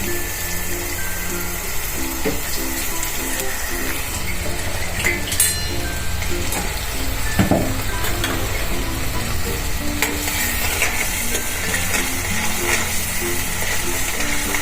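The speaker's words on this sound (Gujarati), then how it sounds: "અને આપણે તેલમાં એકદમ સોટે કરી લઈશું" Loud, continuous sizzle of food sautéing in hot oil for dum aloo, a dense crackling hiss held throughout with occasional stirring clinks, close up and alone.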